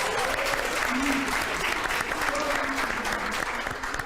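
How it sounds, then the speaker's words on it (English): At a Women's Day leadership event, the audience claps steadily in thanks to sponsors, a dense, continuous wash of applause with faint voices mixed underneath. "let us just give a round of applause as we thank our sponsors"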